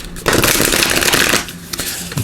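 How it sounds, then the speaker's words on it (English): Tarot cards being shuffled by hand, a dense continuous riffling and flapping that runs loud for about a second before tapering into scattered softer card slaps. "Give these a good shuffle"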